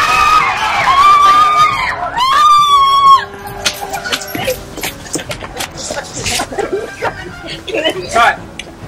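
Film extras on a set scream loudly in high, shrill cries at the start, then break into scattered shouts, laughter and chatter as the crowd scrambles.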